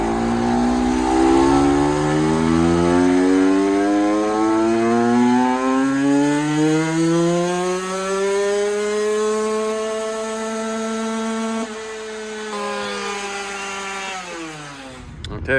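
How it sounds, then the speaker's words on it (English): A KTM 125 motorcycle on a dyno screams through a top speed run in sixth gear, its loud two-stroke engine note climbing steadily in pitch, then dropping off as the throttle closes at the end. "We're gonna do a top speed run and see the top speed of the bike now."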